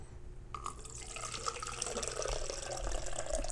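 Ice-cold water pours into a shaker bottle for a BCAA drink: a steady, close splashing stream that begins after a brief pause and grows fuller as the bottle fills, with no talking.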